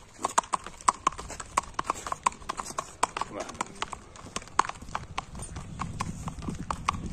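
Hooves of a handsome horse clip-clop steadily at a walk while it is ridden, crisp close hoof strikes in a regular rhythm, with some talk and outdoor background around them.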